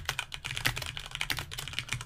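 Rapid clicking of computer keyboard keys while a search phrase is typed, a steady run of close, crisp keystrokes over about two seconds with no talking.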